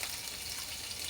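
Vegetables hit a hot skillet, giving a steady, even hiss of sizzling, close and fairly soft, with no talk heard.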